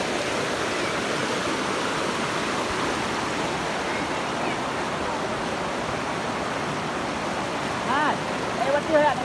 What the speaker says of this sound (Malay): Inilah sungai